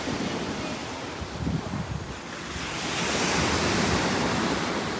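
Ocean waves washing onto the shore, a continuous broad roar of surf swelling louder partway through, mixed with wind rumble on the microphone.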